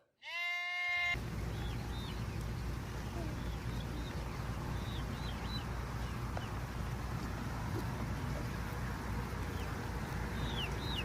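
Hand-reared lambs on a farm bleating, one loud close bleat at the start, then a steady outdoor rumble with faint birdsong and scattered distant bleats, no voices.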